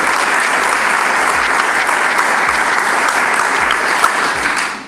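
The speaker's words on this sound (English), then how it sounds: "Can we get a round of applause for them" A large audience at a community reading in North Carolina applauds steadily, a dense, loud wash of clapping holding for several seconds before tapering at the end.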